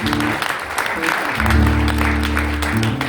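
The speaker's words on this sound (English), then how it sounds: "big round of applause to Arts on Grand" Applause from a crowd at the Arts on Grand outdoor concert in Spencer, Iowa, steady and moderately loud, running under a low, sustained musical tone and some voices.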